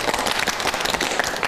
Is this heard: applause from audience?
yes